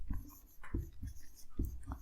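Someone writes on a board during a Russian language lesson, making three short bursts of scratchy strokes close to the microphone, fairly quiet overall.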